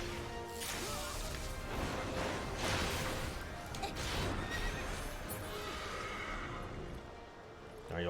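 A horse in a fantasy role-playing game whinnies loudly amid hoof clops and combat crashes, close and prominent over layered game sound, with a player's voice talking at times.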